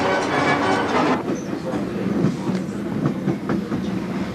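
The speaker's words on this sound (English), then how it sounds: "Train rides and the different types of trains. Riding through." A passenger train rolling on rails after leaving a central station in Rome, a steady rumbling ride with wheel clatter and faint rhythmic clicks heard from inside the carriage, no voices.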